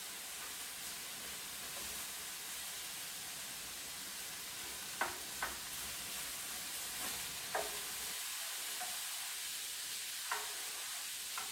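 Broccoli beef stir-frying in a pan, a steady bright sizzle and hiss running throughout with a few sharp clicks of a utensil scraping and tapping the pan, no voices.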